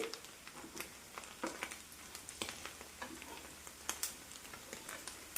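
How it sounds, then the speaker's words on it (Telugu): Dried shrimp crackle and sizzle in a pan, with a steady frying hiss broken by frequent sharp pops and ticks. "మనకి రొయ్యలు అనేవి కొంచెం వేగిపోయినాయి ఇంకొంచెం వేగాలన్నమాట"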